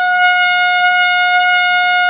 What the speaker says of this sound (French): avec le temps, je vais finir par m'habituer à ce klaxon